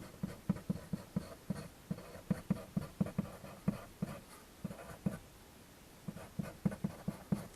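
Marker or pen writing out math by hand on a board, heard up close as quick scratchy taps and strokes in rhythmic bursts with a brief pause midway.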